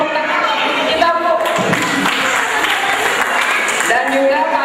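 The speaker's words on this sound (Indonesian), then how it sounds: "tepuk tangan kita Bu" An audience at a kindergarten graduation ceremony applauds steadily and fairly loudly, dense clapping with faint voices mixed in throughout.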